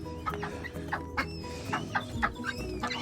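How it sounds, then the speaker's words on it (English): Chickens and ducks cluck outdoors on a garden plot, with repeated short clucks and calls close by over a steady farmyard background. "The ducks and the chickens loving it."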